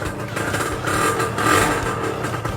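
A Honda LS125R motorcycle engine idles and revs steadily close by, its mid-pitched clattering hum swelling slightly in the middle, with no talking over it.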